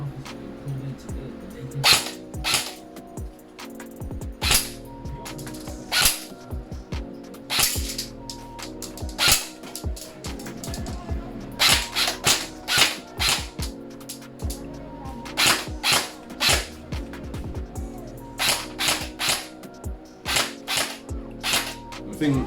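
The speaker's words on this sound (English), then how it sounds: "So I'm going to just do some single shots for you guys as well" A Specna Arms SA-H02 airsoft gun fires single shots: sharp, snappy cracks at irregular intervals, closer together toward the end, with light mechanical rattles and some background sound between them.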